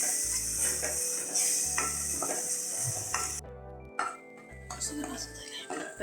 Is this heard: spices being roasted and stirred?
yes